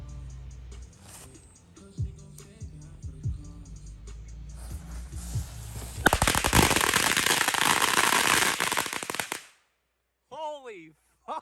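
Firecrackers set off on a sex toy: a dense, loud burst of rapid crackling pops lasting a few seconds, preceded by voices and followed by excited shouting.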